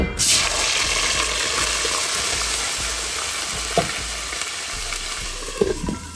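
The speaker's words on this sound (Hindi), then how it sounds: "यहाँ थोड़ा सा ऑयल हमारा गर्म हो जाए तो हम अपना मसाला जो हमने पीसा है वो उसको शामिल कर देंगे।" Ground masala hitting hot oil in a pan, a loud, continuous hiss and sizzle beginning abruptly and holding steady, with a few faint clinks and stirring taps near the end and no talking.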